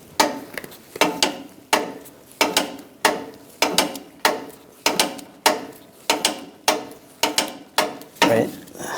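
A jack lifts a Ram 1500 tire off the ground with regular ratcheting pumps, each stroke a close, clunky metallic click followed by a brief rattle, repeating steadily without speech.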